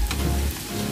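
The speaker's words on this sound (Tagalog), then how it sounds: "melted na yung ating butter, pwede na natin ilagay yung ating minced garlic" Minced garlic sizzles steadily in melted butter in a pan, a close, even frying hiss with a few brief stirring scrapes and no voices.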